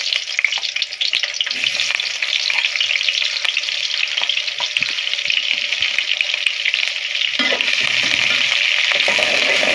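Chopped onion fries in hot oil in a kadai, a loud, steady sizzle close by with occasional stirring scrapes.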